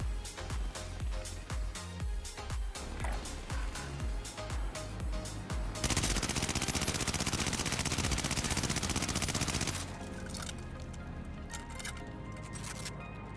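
Rapid automatic gunfire from an AS44 rifle in the Warzone video game, during a recoil test: dense rattling bursts, then a continuous blaze of shots, then another sustained burst, loud and close with no talk.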